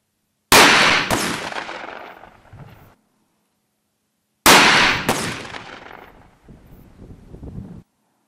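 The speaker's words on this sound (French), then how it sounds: "maintenant, j'envoie le canon du haut." Two loud shotgun blasts from an ELOS Traqueur 12-gauge 12/76 over-under, the top barrel fired outdoors, each a sharp crack trailing into a long rolling echo, about four seconds apart with light wind noise.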